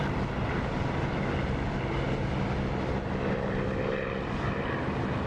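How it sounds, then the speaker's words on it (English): A propeller aircraft engine in a flight simulator game, heard with the canopy open, roars loudly and steadily, a dense, close, unbroken drone with no speech. "I love the sound of the engine with the canopy open."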